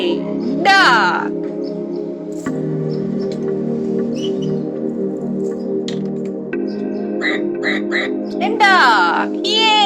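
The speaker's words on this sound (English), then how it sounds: "Duck." A duck quacks in a short children's animal-sound sequence, the quacks mixed with a toy-like musical tone and a cheering voice at the start and end.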